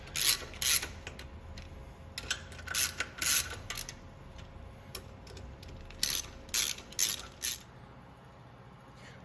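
A ratchet snugs down bolts on a Becker dry rotary vane vacuum pump in short bursts of rapid metallic clicking, with brief pauses between bolts. No speech.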